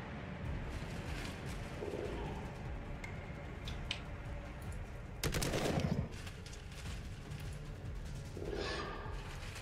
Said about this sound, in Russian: Да, простой выстрел.